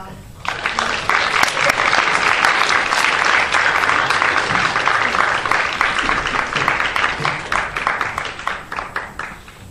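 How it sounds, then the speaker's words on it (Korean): Enthusiastic clapping from a chapel crowd welcoming a pastor fills the room, dense and steady, then gradually thins into more scattered claps toward the end. "여러분 자리로 모실 때 큰 박수로 환영해 주세요"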